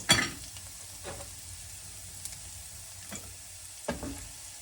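Cherry tomatoes and broccoli frying in a pan give a soft, steady sizzle, broken by a few sharp stirring clacks spaced about a second apart.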